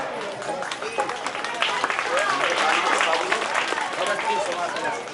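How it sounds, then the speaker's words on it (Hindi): Audience applause welcoming a tabla player at a Hindu religious katha gathering: dense, steady clapping from a crowd, with voices heard over it throughout. "इनकी तालियों में स्वागत करें।"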